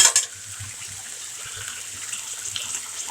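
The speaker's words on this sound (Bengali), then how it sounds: "পানি দিলাম" Water poured into a pan of frying spices, a brief splash and hiss at the start that settles into a soft, continuous sizzle and bubbling, close by.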